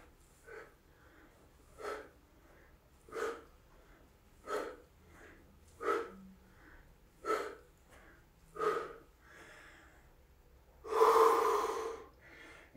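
Sharp breaths are exhaled in a steady rhythm during a leg raise exercise, about one every second and a half, close and moderately loud, ending with a longer, heavier breath.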